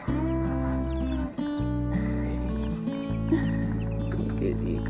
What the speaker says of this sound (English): We brought the chicks out for a little bit to get a little bit of sunshine.